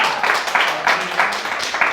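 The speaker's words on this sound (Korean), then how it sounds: "박수." Audience clapping at a lecture on conflict management and communication, a short burst of several loud, closely spaced claps from a nearby group.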